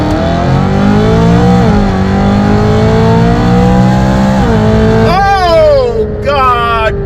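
A V8 BMW M3 engine roars close and loud, its pitch falling on downshifts and then climbing as it accelerates out of a corner, with an excited voice near the end.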